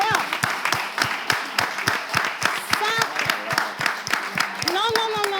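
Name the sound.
audience applause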